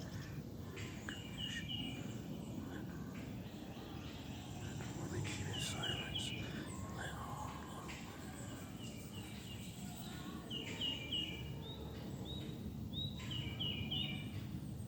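Outdoor insects and crickets chirp steadily through a walk outside, with scattered bird calls and a constant low rumble of movement, the buzzing soft and continuous in the background.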